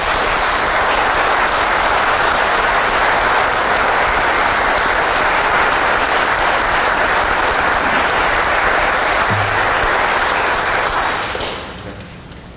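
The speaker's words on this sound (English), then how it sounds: "We can give them a round of applause." An audience applauds three newly sworn police officers at a Norristown ceremony: dense, steady clapping fills the room for about eleven seconds, then tapers off quickly at the end.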